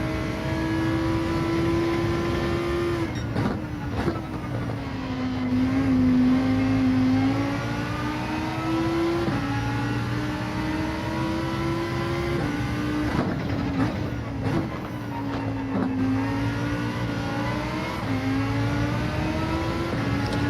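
A Lamborghini Huracan accelerates in Gran Turismo 7 at Catalunya, its engine climbing in pitch through a run of gear changes. The revving sweeps are loud and close, with brief dips between shifts.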